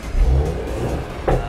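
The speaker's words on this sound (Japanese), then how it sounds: "ちょっとエンジンかけてみますね" An Audi S4 engine fires up and revs briefly, a short low roar that swells and then settles, heard up close.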